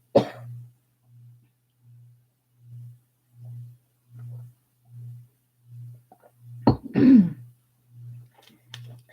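A short cough and a rough throat clearing break through a quiet room with a faint, regularly pulsing low hum in the background.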